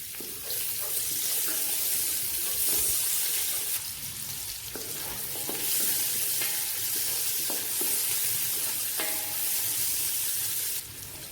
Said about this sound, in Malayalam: എണ്ണ ചൂടായിട്ടുണ്ട്. നമുക്ക് 2 സവാള ഇട്ട് വഴറ്റാം.